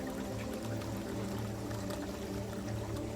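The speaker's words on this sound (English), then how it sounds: "Its gentle sound of the flowing water is soothing your soul." Gentle flowing water from a babbling brook, a steady soft burble and trickle that runs continuously and fairly quietly with no voices.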